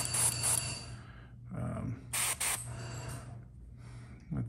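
Airbrush spraying Pro Acryl transparent paint onto a figure in short hissing bursts, a steady low hum running beneath the repeated sprays.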